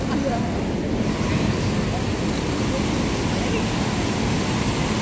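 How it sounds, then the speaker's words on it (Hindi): Fast-flowing river water on the road to Manikaran, a steady broadband rush that fills the whole clip without pause, with wind buffeting the microphone and no voices. "नीचे को अगर पानी का फ्लो दिखाऊँ ना तो गजब तेज फ्लो आ रहा है भाई साहब"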